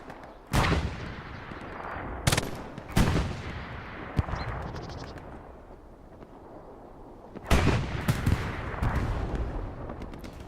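Machine-gun and artillery fire boom through a Hell Let Loose battle, with several sharp, loud bursts and heavy blasts separated by rumbling echoing tails, and no talking.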